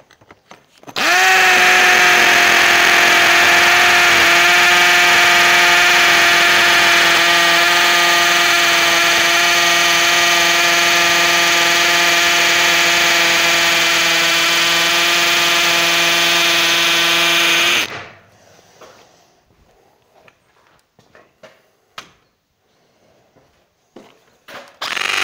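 A Teccpo 18V drill in hammer mode on second speed bores an 8 mm bit into a reinforced concrete column. It gives a loud, constant whining hammer buzz for about seventeen seconds, then cuts off into a few quiet knocks and handling sounds.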